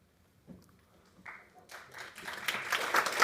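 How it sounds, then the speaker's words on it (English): Applause from a conference audience after a question at a data science talk, starting sparse and growing steadily louder and denser over a few seconds, with no one speaking. "You get an applause for your question."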